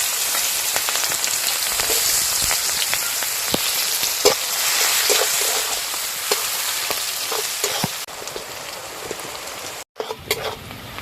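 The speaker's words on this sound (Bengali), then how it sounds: "ওই মাছ ভাজার তেলে দিয়ে দেবো পেঁয়াজ কুচি," Chopped onions fry in hot oil previously used to fry snakehead fish for a spicy curry, giving a loud, continuous sizzle with occasional stirring clatter; the crackle thins and briefly cuts out near the end.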